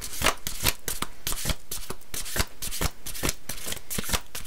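Tarot cards being shuffled by hand, a close, loud run of rapid riffling bursts and soft slaps repeating steadily throughout, with no voices.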